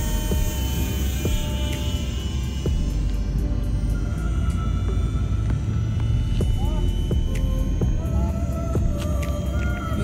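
An Eachine mini P-47 RC warbird plane comes in to land, its small electric motor making a steady whining drone with a constant hum beneath throughout, while a person talks over it.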